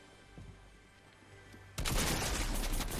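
Shotgun gunfire in a video game bursts in loudly and continuously after a quieter stretch of ambient game sound, a dense barrage of blasts filling the final second and a half.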